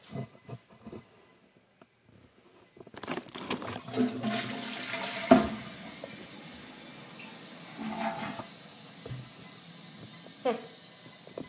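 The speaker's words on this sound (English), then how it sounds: "first let me flush the toilet." A toilet flush starts with a click, then water rushes and gurgles loudly, draining and slowly refilling over several seconds, with a few faint background sounds.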